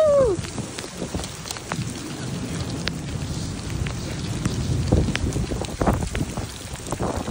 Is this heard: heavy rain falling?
yes